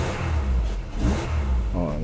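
A 1982 Mercedes-Benz W123 230E engine runs cold just after starting and revs, a loud, steady mid-pitched engine note with throttle swells, close up and filling the whole stretch.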